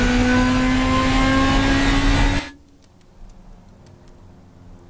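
A race-engined car in the Automation video game roars at high revs with a loud, steady engine tone, then cuts off abruptly halfway through, leaving faint ticking and quiet background.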